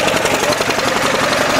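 A 10hp LaunTop Yanmar-clone diesel engine runs up from a cold start with a steady, rapid knocking chug, close and loud, with no one talking.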